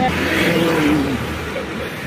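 A Kymco KRV 180cc motorcycle engine runs steadily up close, a low continuous drone that eases slightly toward the end as the bike comes to a stop to park.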